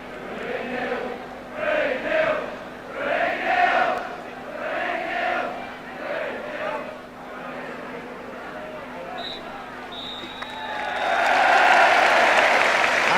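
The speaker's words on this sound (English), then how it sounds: "Spurs going off to thunderous applause" Thunderous applause and crowd roar from football supporters at White Hart Lane as Tottenham go off at half-time against Bristol Rovers, swelling to a loud, dense ovation in the closing seconds after earlier waves of chanting.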